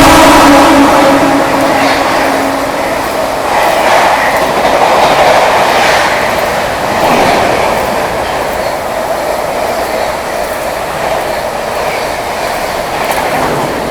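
The Sealdah–Bikaner AC Duronto Express rushes past at speed in heavy rain, a loud, steady roar of wheels and rattling coaches with clickety-clack filling the whole stretch.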